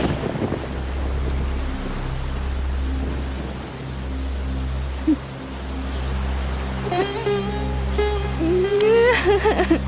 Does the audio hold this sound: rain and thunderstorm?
yes